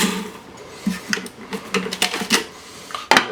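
Quick mixing of a jerk marinade of garlic, Scotch bonnets, a seeded Serrano chili and salt, heard as a short run of close clinking and scraping taps against a bowl, ending in a sharper knock.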